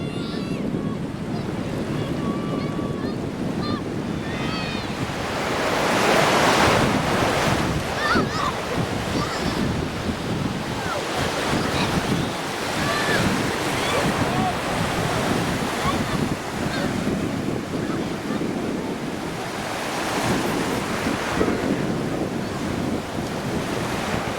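Ocean surf at Bojo Beach, Ghana, rolls and crashes continuously, a broad steady roar with wind buffeting the microphone.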